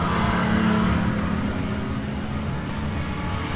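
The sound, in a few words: V6 Holden stockcar engine revving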